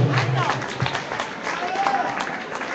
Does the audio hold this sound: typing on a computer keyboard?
no